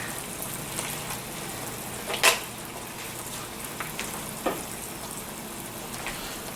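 Heavy whipping cream simmers down in a pan for a mushroom sauce, a soft, even frying hiss with a few faint sharp pops and clicks scattered through it.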